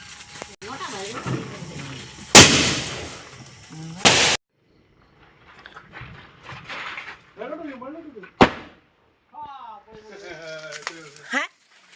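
Sharp, loud bangs of firecrackers burst amid excited voices and chatter on Christmas Eve, several cracking blasts scattered through the noisy scene.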